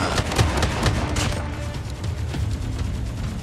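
Striker shotgun firing in a video game, a dense run of loud blasts and booms across the whole stretch, with no talk over it.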